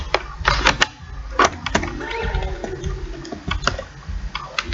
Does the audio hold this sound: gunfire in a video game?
no